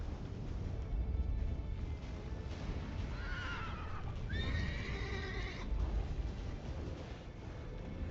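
A horse in The Witcher 3 video game gives a loud, clear whinny with a second rising neigh right after it, over a rumbling, noisy game soundscape.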